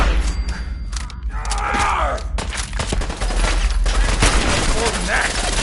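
Gunfire in a PS4 video game battle, rapid bursts and scattered shots crackling over a constant low rumble, with shouted voices mixed into the fighting.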